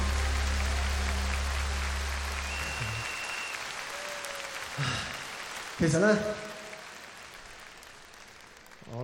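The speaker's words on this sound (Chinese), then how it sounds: "掌声" Concert audience applause at a show, a broad wash of clapping that is strongest at first and gradually fades, with a brief spoken phrase and stage sounds coming through near the end.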